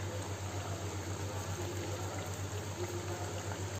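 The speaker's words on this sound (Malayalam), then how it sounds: "ഇനി നമുക്ക് ഇന്നത്തേക്ക് 2 കപ്പ് ചൂടുവെള്ളം ഒഴിച്ചു കൊടുക്കാം" Hot water from two cups poured into a pan of butter chicken, a steady liquid rush with a constant low hum beneath it, continuous and fairly quiet throughout, no voices.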